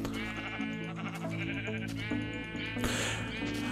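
Sheep bleating in Minecraft, a loud, wavering bleat followed by another sharp cry, sitting over a steady humming tonal backdrop.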